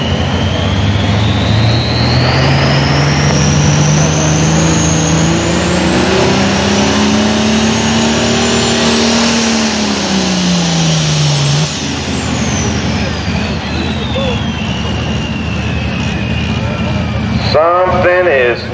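Super Pro farm tractors at a tractor pull at Millers Tavern roar loudly and continuously, the engine pitch climbing and then falling away as a run goes by, with a voice briefly heard near the end.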